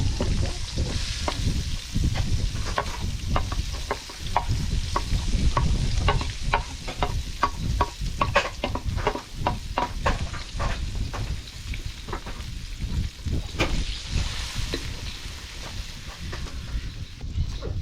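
Butter and a heap of garlic fry in a pan with a busy, constant sizzle, while frequent clicks and scrapes of stirring sound over it at close range.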